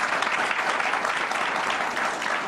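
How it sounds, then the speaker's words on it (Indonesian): A studio audience of university students bursts into steady, continuous applause at the opening of a Kompas TV political talk show, the dense clapping filling the room evenly with no voices over it. "Tepuk tangan."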